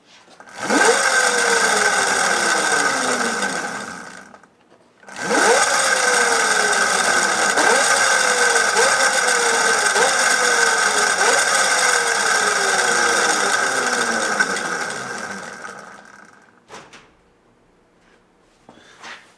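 A hand-spun waterwheel microhydro powertrain on its subframe whirs loudly up to speed, pauses briefly, then spins up again with repeated surging pulses before winding down to near silence.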